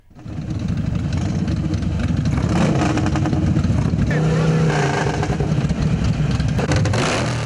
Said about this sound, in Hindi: हैवी बाइक्स की चिंगारती आवाजों ने आसमान सर पर उठा लिया।